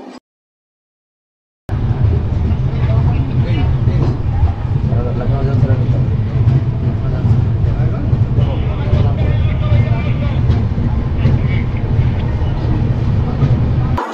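The Kumbh Express 12369, heard from inside a 3E class coach after leaving Varanasi, gives a steady low rumble and rattle that continues evenly after a brief silent start, with faint voices in the carriage.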